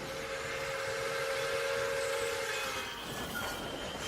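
A passenger train rolls away from a small rural station, a steady rumbling wash of wheels with a sustained whistle tone over the first part, moderately distant and even, no voices.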